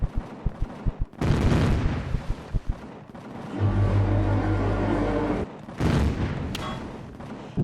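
Enemy fire in the space game Empyrion: a string of sharp, separate shots, then a heavy roaring barrage with a deep rumble, then more loud blasts, all close and intense.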